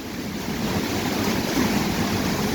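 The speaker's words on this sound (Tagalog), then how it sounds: "Dali ah kay makusugan hangin." Strong typhoon wind roars steadily with a rushing, surf-like hiss, continuous and loud throughout without any voices.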